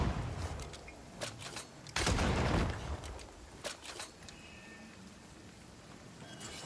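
Gunfire in the video game Banishers: Ghosts of New Eden, a few sharp cracks and one louder burst, fairly quiet overall with scattered crackling.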